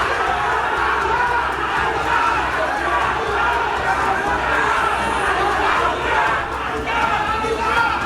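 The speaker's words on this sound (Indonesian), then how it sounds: "Awalnya mereka hanya saling adu yel-yel, namun suasana semakin memanas." Rival crowds of political supporters at a regional election event trade chanted yells, a dense, loud, continuous roar of many voices shouting together.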